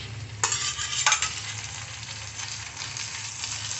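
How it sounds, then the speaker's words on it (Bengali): Ginger garlic paste fries with browned onions in a pan, two sharp scraping stirs near the start, then a soft continuous sizzle. "মশলাটা ভেজে নেবো, যাতে কাঁচা গন্ধটা আদা রসুনের চলে যায়।"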